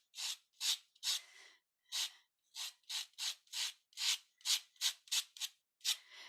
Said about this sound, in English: I'm going to take my knife, just scrape out any of that excess paint that's in there.